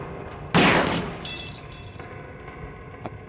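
A single sharp gunshot at a padlock in The Black Mirror video game, loud and close, followed by a metallic ringing decay and a faint later tap over low ambient background.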